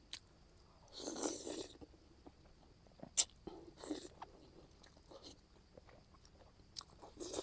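Crunchy food is bitten and chewed in a few faint, separate crisp bursts with quiet gaps between them, close but soft.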